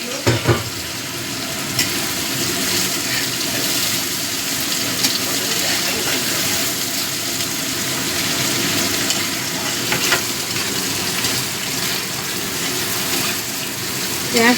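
Chopped onions frying in oil until reddish, with mutton marinated alongside, a dense continuous loud sizzle with faint occasional stirring scrapes.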